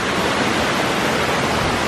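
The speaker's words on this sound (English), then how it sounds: "I think we have found the waterfall." Waterfall in a Costa Rican forest: a steady, broad rushing roar of falling water, continuous and fairly loud with no other sounds.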